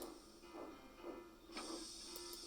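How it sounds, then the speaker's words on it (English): Steam hissing from a Thomas the Tank Engine toy or model boiler, a faint, continuous breathy hiss with soft swelling bursts and a brighter rush partway through, heard alone. "Thomas's boiler was bubbling, and his steam was wheeshing"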